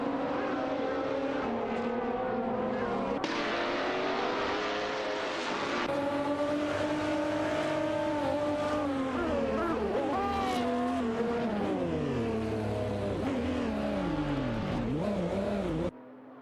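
Race cars in an AI-driven racing video game scream past one another, engines revving and shifting pitch continuously, with tire squeal and skidding mixed in, loud and close for the whole stretch.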